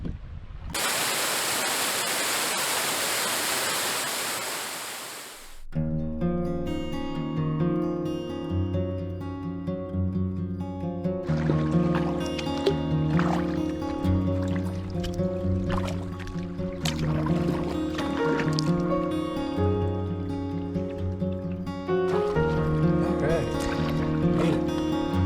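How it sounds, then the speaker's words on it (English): Broadband rushing water from a waterfall or rapids in Algonquin for several seconds, then giving way to tonal, music-like sounds that continue to the end. "Sounds to be a bit of a waterfall or rapids coming in here."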